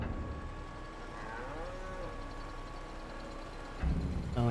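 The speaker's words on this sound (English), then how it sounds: "They are mooing in delight." Cows mooing in the Farming Simulator 22 video game, several drawn-out moos overlapping at moderate loudness over a low rumble, with a burst of noise near the end.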